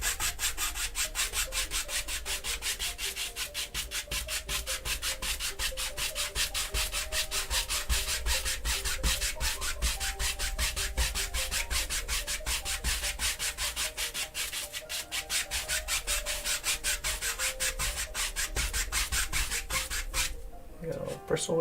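A paintbrush making rapid crisscross strokes on a wet-on-wet oil landscape canvas, a close, steady, rhythmic scratchy rubbing that runs continuously for about twenty seconds before stopping.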